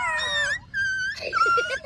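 A voice imitates a dog with high, drawn-out whining howls, three wavering cries in quick succession.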